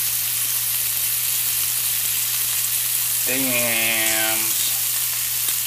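A one-pound rib-eye steak frying in a hot pan, a steady loud sizzle running the whole time, with a single short spoken exclamation over it.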